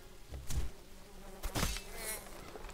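Wasp buzzing in the video game Eyo, a close insect drone that swells in two louder passes as it flies near, over a low steady game background, with no speech.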